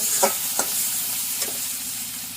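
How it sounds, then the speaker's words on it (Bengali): Turmeric, chili, coriander and cumin stir-fried in a pan in a Bangladeshi village kitchen: a steady close sizzle with a few soft scrapes of stirring. "হলুদ মরিচ ধনিয়া সব মশলা দিয়া আচ্ছা, আচ্ছা, জিরা আচ্ছা। দিয়া সব মশলা দিয়ে কষায় নিতেছে"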